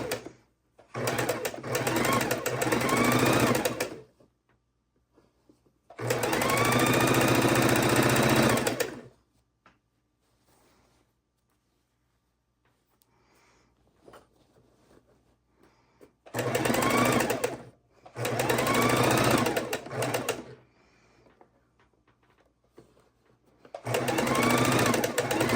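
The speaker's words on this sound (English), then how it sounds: "bring them over to the sewing machine to sew" Bursts of sewing machine stitching on quilt borders, a fast steady whirring rattle running for a few seconds at a time, separated by quiet pauses with faint handling noise.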